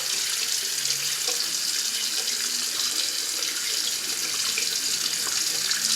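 Water runs steadily from a tap, hissing and splashing evenly as bentonite clay is lightly rinsed from 4C and 4B hair, with no voices.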